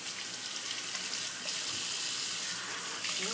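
A water tap runs hard into a sink while a razor and face are rinsed during a wet shave, producing a loud, steady close-up gush with slight shifts as the flow is interrupted, and no speech.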